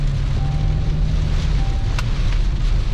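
Strong wind roars steadily and loudly, buffeting the microphone with a constant low rumble and no pauses.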